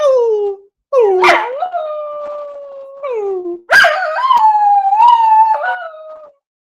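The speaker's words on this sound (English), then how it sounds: "Do you need to howl?" A dog howls in long, loud, close-up wails, two drawn-out phrases separated by a short pause, with no voices over them.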